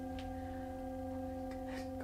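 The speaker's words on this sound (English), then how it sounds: "these bowls are made for sound massage to produce long sustained powerful vibrations and deep lengthy tones" A quiet, sustained metallic ringing tone from a singing bowl hums steadily throughout, with faint soft taps layered over it.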